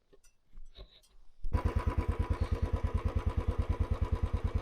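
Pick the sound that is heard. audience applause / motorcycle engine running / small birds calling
motorcycle engine running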